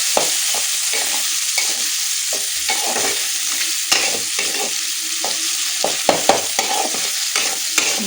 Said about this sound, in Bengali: দিয়ে এই মশলাটা ভালো করে কষাতে হবে